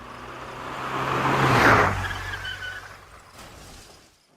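Car passing close with engine noise building to a loud whooshing peak and fading away, with a brief skid-like hiss, a single road-vehicle impact-style sound effect.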